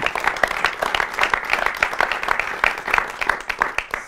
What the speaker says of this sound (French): Je vais remercier Olivier, je vais vous demander de l'applaudir.